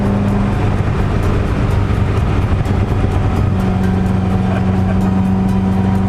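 A diesel truck engine rumbles loudly and close as it pulls up, a heavy steady drone with a rising whine partway through, alone without voices.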